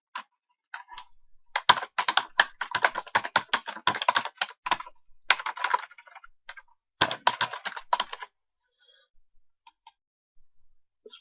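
Quick, uneven clicking of keys on a computer keyboard, typed in short bursts with pauses between them, close and clear in a quiet room with no voices.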